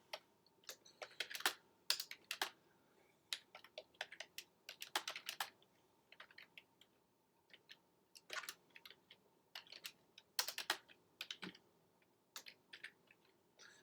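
Typing on a computer keyboard comes in quick, close bursts of crisp key clicks separated by short pauses, quiet and alone without talk.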